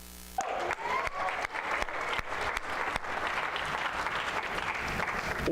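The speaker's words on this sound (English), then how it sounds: "Let's give this gentleman a round of applause." An audience in a seminar-style setting bursts into applause for a new recruit after a brief moment of quiet, then keeps up steady, close clapping from a moderate crowd.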